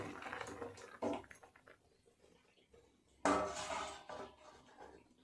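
A metal lid clatters onto a cooking pot on a gas stove that has just been turned off, making two distinct, nearby rattling clanks in an otherwise quiet kitchen.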